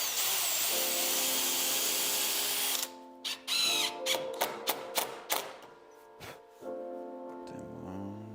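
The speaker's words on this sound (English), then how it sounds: "Then I'm going to countersink some holes for 4 screws" A power drill countersinks screw holes in a wooden board, whirring steadily for about three seconds, then firing a run of short, sharp bursts as the bit bites into the wood, ending with a brief final whir.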